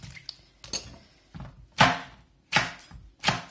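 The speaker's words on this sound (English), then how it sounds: "So I'm just really quickly chopping them up." A knife chops through unpeeled bananas on a cutting board in a home kitchen, giving about five or six sharp, close thuds at uneven intervals with short pauses between them.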